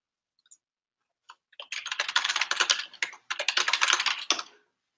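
Fingers type a username and password on a computer keyboard, a few isolated key taps first, then a quick, close run of rapid clattering keystrokes with a brief pause midway before stopping.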